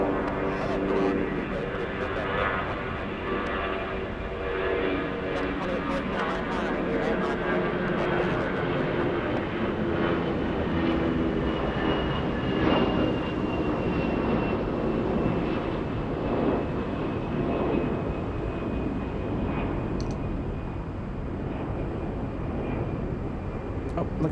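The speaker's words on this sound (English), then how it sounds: "Oh, look at this Southside takeoff." A jet airliner takes off from a south-side runway at Atlanta Hartsfield-Jackson airport, a sustained broad engine roar heard from a distance that swells and holds throughout.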